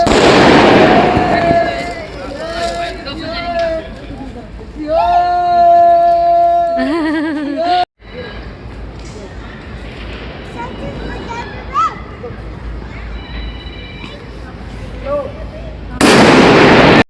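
A firework fountain (anar) burns with a loud hissing, crackling spray during a household celebration. Someone talks over it.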